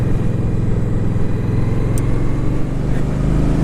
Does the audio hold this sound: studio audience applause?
no